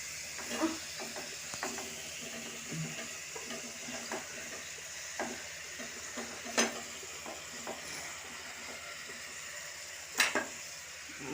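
Native okra frying in a pan for a fish curry, stirred with a utensil: a quiet, low sizzle broken by irregular scraping clicks and taps against the pan, sharper knocks near the end.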